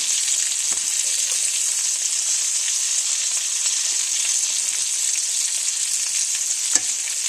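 Squirrel pieces cooking in a pan of sauce, giving off a constant bright sizzle and bubbling up close, steady from start to finish with one small clatter near the end.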